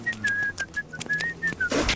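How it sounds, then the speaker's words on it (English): A cartoon character whistles a theme song tune, a steady sequence of clear melodic notes with short gaps between phrases, close and alone without talk. "In La Femme Mitsuki, Mikey whistles the theme song."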